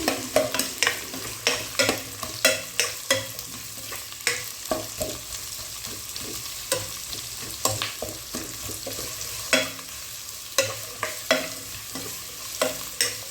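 Chopped onions sautéing in a pan during preparation of mutton kurma, with a steady sizzle broken by frequent sharp scrapes and clacks of a spatula stirring, close and clear with no talking.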